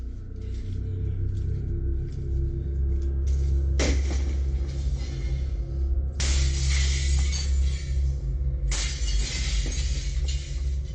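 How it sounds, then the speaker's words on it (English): Window glass is repeatedly shattered by a piece of firewood during a home break-in captured on a security camera: three loud, sharp crashes of breaking glass over a low rumbling background, with lighter clinks and taps in between. "man was able to use a piece of firewood to shatter one of the windows"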